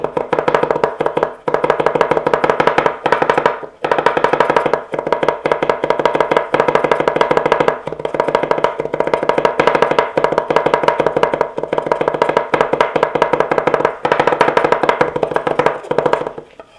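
A knife minces garlic on a cutting board in fast, steady rhythmic taps that run almost without pause, close and crisp, with only brief breaks between bursts.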